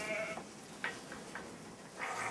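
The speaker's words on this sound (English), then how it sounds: "Wonderful sheep, the Shropshires." Shropshire sheep and lambs bleat in a few faint, short calls spaced through the clip against a quiet farm background.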